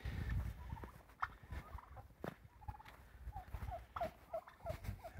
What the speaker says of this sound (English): And there are the girls, the turkeys.